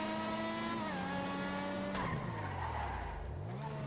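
A car in GTA spins out on a custom-built track, engine whining and dropping in pitch as the tyres screech into a long, loud skid that sweeps through the spin.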